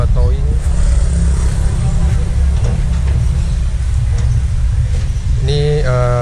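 A tow truck carrying ten Vespa scooters drives on a road from Yogyakarta toward Jakarta, giving a steady, loud low engine and road rumble throughout, with voices talking over it.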